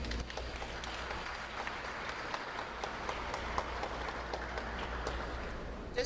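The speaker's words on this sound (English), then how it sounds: "give yourselves a round of applause" A crowd at the Presentation College prize-giving claps in a soft, steady wash of applause, distant and fairly faint, holding evenly throughout with a low hum beneath.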